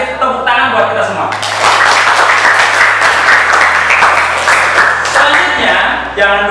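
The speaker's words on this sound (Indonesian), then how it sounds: "Tepuk tangan buat kita semua." Applause from a group in a teacher-training class session, a loud burst of clapping that swells and holds for several seconds, with a background tone and some voices mixed underneath.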